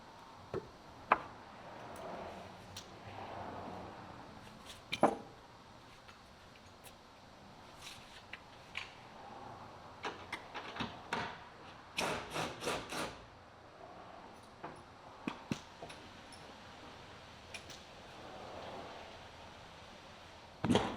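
A 1/2-inch socket and 1/2-inch wrench work the lower bolt on a TURN Offroad TR10 Series hardtop, giving scattered metallic clicks, taps and ratcheting rubs at irregular intervals against a quiet background.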